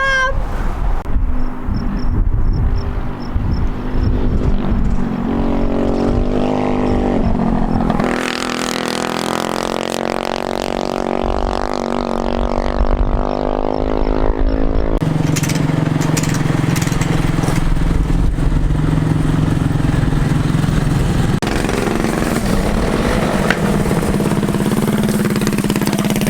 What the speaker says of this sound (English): I may have raced the engine off of the go-kart.